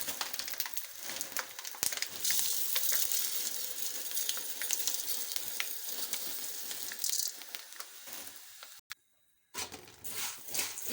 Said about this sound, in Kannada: ಇವಾಗ ಇದಕ್ಕೆ ಮುಂಡಕ್ಕಿಯನ್ನು ಸೇರಿಸೋಣ.